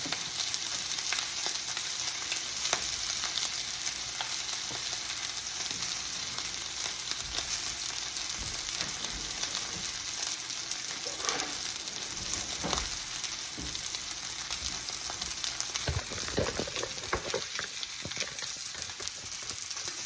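A New York strip steak sears face down in a hot pan with oil, giving a steady, continuous sizzle that runs unbroken for the whole stretch with a few faint clicks and no talk.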